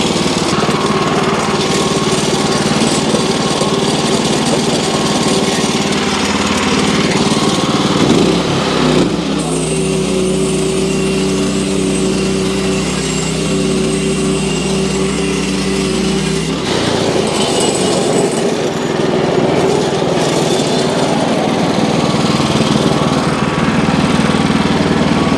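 A Wood-Mizer LX25 sawmill's engine drones loudly and steadily as the blade cuts through a log, the pitch and load shifting partway through and then settling back into a continuous hum.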